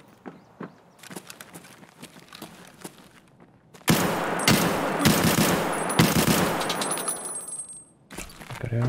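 Gunfire in Escape From Tarkov at the Customs map, a few scattered distant shots at first, then loud, rapid close-range bursts and single cracks in quick succession, with brief pauses between volleys.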